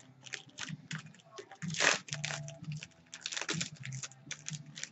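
Close, crinkly tearing and rustling of a small plastic hand warmer packet being opened, coming in irregular bursts, with one louder rip near the middle.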